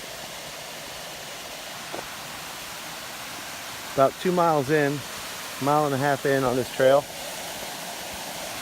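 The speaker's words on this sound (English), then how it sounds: "I hear water moving. We must be real close." A steady rush of moving water from a nearby waterfall along a hiking trail forms a constant broadband roar, with someone briefly talking over it midway.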